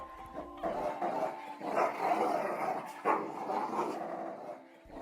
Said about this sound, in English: The dogs, who were tied up by rope, snarled at him viciously.